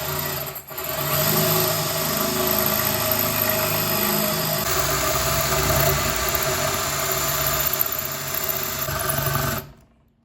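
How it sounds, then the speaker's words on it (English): A power drill with a concrete bit grinds steadily into a concrete paver for about nine seconds, loud and close, indoors, before cutting off abruptly. "Always make sure you have a drill bit for concrete."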